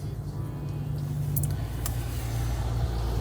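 Steady low engine rumble and road hum from inside a moving car, continuous and even, with a couple of faint clicks.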